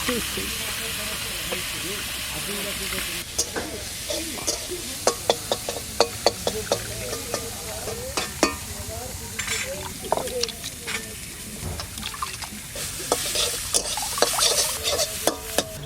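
Leafy greens frying in a pan for a Bengali home meal, stirred repeatedly: a steady sizzle and hiss carries a run of sharp scraping and clinking strokes from the spatula, close and fairly loud, with a brief voice in places.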